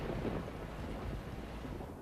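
Steady hiss of summer rain falling on an English vineyard, with a deep rolling rumble of thunder underneath, broad and noisy throughout.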